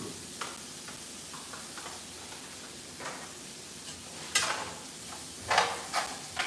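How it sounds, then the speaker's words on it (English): Onion sautéing in oil in a pan, a soft steady sizzle with occasional stirring scrapes and a few louder clinks near the end, no talk. "I'm just gonna saute the onion."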